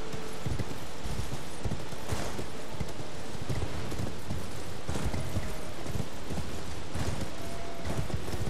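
A magical horse gallops in the Elden Ring video game, its hooves making a continuous rhythmic clip-clop at moderate loudness over a noisy, rumbling ambience, with no speech.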